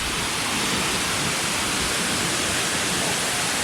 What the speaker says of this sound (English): For those who'd love to see a waterfall from the back end,